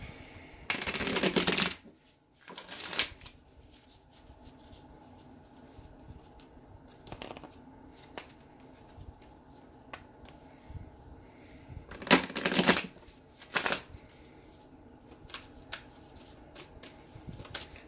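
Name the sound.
tarot cards being shuffled and drawn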